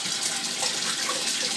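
Cold water poured from a tap or container into a kitchen vessel, a continuous splashing, gurgling flow heard close and fairly loud for the whole short stretch, without talk.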